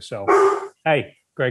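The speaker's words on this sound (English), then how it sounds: "that's my dog." A pet dog barking close by in a home setting, three short loud barks in quick succession, mixed with someone talking.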